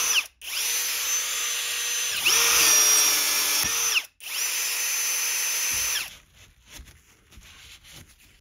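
Power drill boring a hole in a Pelican case, with two loud whining bursts of a few seconds each, the motor pitch dipping as the bit bites, followed by quieter handling noises.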